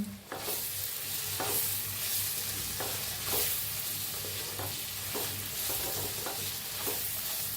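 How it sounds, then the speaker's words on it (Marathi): Potatoes with coriander are stirred in a sizzling pan: a constant frying hiss with regular scraping strokes of the spoon about every second, close up and with no voices. "आता कोथिंबीर घालूया। हलवून देऊया।"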